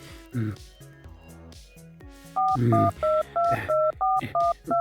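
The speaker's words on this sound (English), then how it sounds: "I'm going to have to call Skeletor." A string of dual-tone keypad beeps, about eight short evenly paced presses, loud and close, with a faint musical background.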